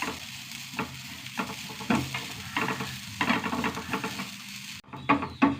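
Stirring fennel seeds as they roast in a hot pan gives a soft continuous sizzle with repeated scraping strokes of the spatula, heard up close and alone, with a brief quieter break near the end.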